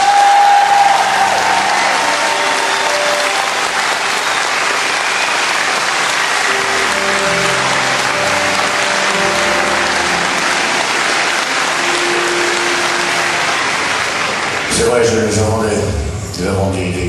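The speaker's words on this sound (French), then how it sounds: "J'aimerais qu'on les applaudisse très fort." Large concert crowd at a live show in Nancy applauding loudly and continuously, a dense roar of clapping with low sustained musical notes underneath and a brief voice near the end.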